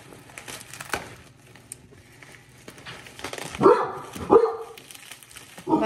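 A dog barks twice in quick succession, fairly close, after some light rustling and crinkling in a quiet room.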